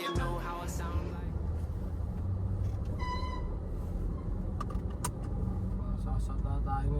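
A car cruising on a highway gives a continuous low rumble of engine and road noise, with occasional faint clicks and rattles inside the cabin and a voice speaking.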